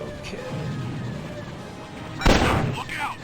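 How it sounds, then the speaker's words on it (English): TIE fighter laser fire in an X-Wing video game mod, with a sharp, loud blast and crash standing out over a low engine rumble, followed by fainter shots, with faint voices underneath. "And there's the TIE fighter shooting at us."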